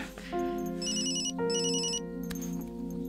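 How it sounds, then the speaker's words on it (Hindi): A melodic phone ringtone for an incoming call, with stacked tonal notes repeating steadily and fairly loud inside a moving car, no talk over it. "तुम्हारे घर से फोन है"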